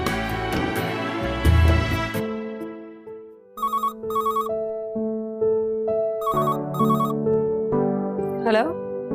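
Telephone bell rings in bursts inside a home in a TV drama scene, clear and fairly close, interleaved with background music.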